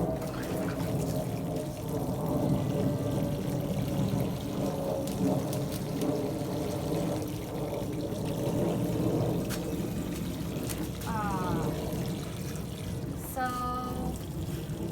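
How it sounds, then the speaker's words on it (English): Water pours steadily into a pot holding a Monstera deliciosa cutting in soil, a continuous close trickle and splash lasting throughout with a few faint background sounds. "so let's keep watering."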